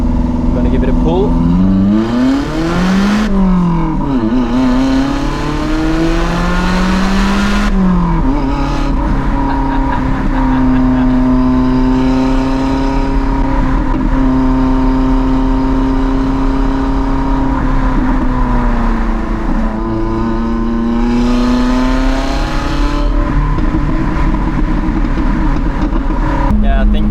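A car pulls hard through first gear with a loud, rising exhaust roar and steady engine drone, the revs climbing and dropping in sweeps under occasional talk from inside the cabin.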